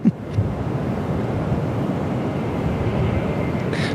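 Fokker 100 airliner on short final to runway 03 at Perth Airport, heard as a steady broadband roar with wind buffeting, loud and sustained throughout.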